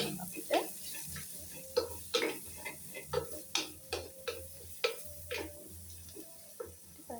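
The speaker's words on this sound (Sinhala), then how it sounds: "මිරිස් කුඩු ටිකක් තෙලේ හොඳට තෙම්පරා දිවෙන්න දෙන්න." Chili powder sizzles and crackles in hot oil for a mutton curry, with intermittent sharp clinks of a spoon stirring the pan over a low, constant fry.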